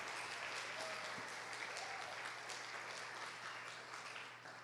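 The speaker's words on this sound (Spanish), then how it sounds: "Fuerte el aplauso al Rey." A church congregation claps for the King during a family worship service, a steady wash of applause sustained throughout at moderate distance, faintly tapering near the end.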